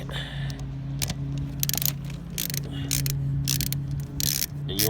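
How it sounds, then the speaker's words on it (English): Ratchet with an 8mm socket loosening a bolt on the rear brake of a 2014 Harley-Davidson Sportster, giving a run of close, rapid clicking bursts in short repeated strokes against a steady low hum. "this bolt right here, just take it out"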